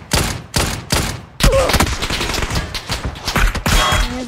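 Rapid bursts of gunfire in an online ranked shooter match with an MG3 machine gun, loud repeated volleys and staccato shots over roughly four seconds, with no talk over them.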